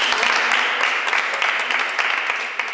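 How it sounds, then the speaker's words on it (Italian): Dense, steady applause fills a studio on a local TV football show as everyone claps for official photographer Nicola, sustained and fairly loud throughout before easing slightly at the end. "Adesso dobbiamo fare tutti un applauso al nostro fotografo ufficiale Nicola."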